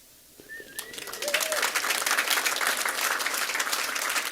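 At a school board meeting, a couple of rising whistles ring out before an audience breaks into steady, moderately loud applause that carries on to the end.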